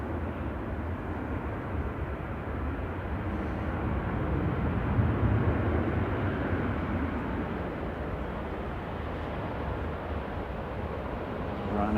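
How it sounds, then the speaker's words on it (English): A Ryanair airliner taxis at Manchester Airport, a steady broadband engine rumble held throughout at moderate distance with no pauses or distinct events. "Ryanair just rolling in the background."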